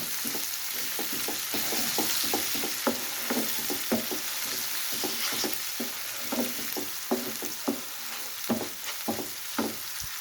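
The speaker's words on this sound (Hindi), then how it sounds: "ज़ीरा ऐड कर देना है और चम्मच चला देना है" Cumin seeds fry in hot oil with red chili and salt for a brain masala fry, hissing steadily while a spoon stirs in quick, regular scraping strokes close up.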